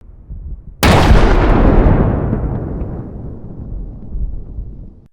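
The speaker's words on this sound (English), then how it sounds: "The drone operators strike the vehicle suddenly," A BMP-2 armored vehicle blows up after a drone strike: a sudden, loud blast tears in after a faint moment, then rolls into a long rumbling decay with a second swell of debris and echo.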